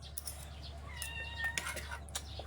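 A house cat gives a brief, faint meow in a home during a family meal, a single short rising call partly buried under low background hum and small clinks.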